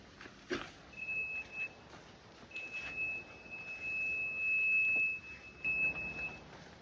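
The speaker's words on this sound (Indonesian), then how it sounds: "buzzer ketika posisi pasien dalam jatuh ke samping atau ke belakang, buzzer akan berbunyi" A steady high-pitched buzzer on a fall-detection belt sounds in several long stretches with brief gaps, triggered by a sideways or backward fall, over faint background noise.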